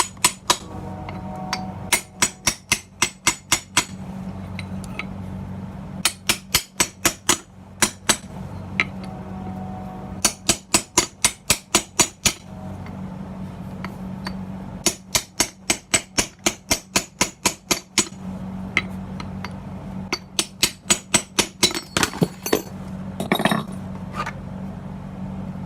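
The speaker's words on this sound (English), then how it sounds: "So I've been working at it with a nice little wedge, a hammer" Rapid bursts of sharp metallic hammer strikes on a wedge against metal ring out in repeated volleys, each run of quick clinking blows separated by short pauses, while removing a bumper car's electric motor.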